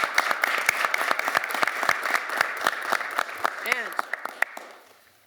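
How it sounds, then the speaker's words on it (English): Audience of mayors and local representatives applauding at a New York pro-housing event, a steady round of many hands clapping at moderate distance, gradually fading out at the end. "I want to give you all a round of applause for stepping forward."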